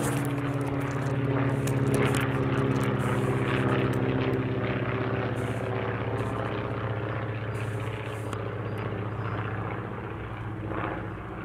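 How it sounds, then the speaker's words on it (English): Small propeller plane droning overhead at a campsite, a loud steady engine hum with a buzzing tone that slowly fades as it passes, no voices. "There's a little prop plane."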